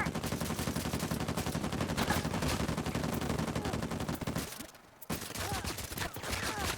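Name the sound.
gunfire in video game Uncharted 4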